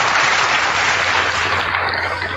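A crowd applauds loudly and steadily, a dense wash of many hands clapping at once with no pauses.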